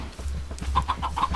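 Chickens in the video game Blood N Bones cluck in a quick run of short, bright calls over a steady low hum, growing denser toward the end.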